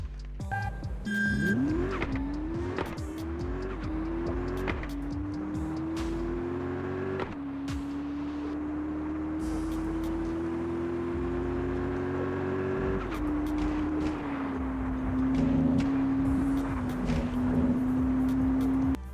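A car engine in Car Parking Multiplayer revs and shifts gears continuously, pitch climbing and dropping with each shift, with tire squeals and clicks layered over the steady drone.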